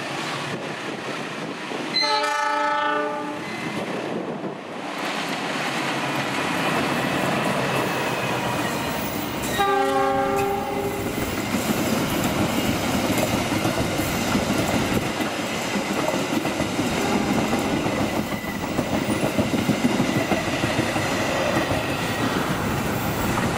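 An Argo Sindoro passenger train rolls past a large curve at Cikarang, sounding its horn twice, first early and again near ten seconds, over a loud, continuous rumble and clatter of wheels on rails.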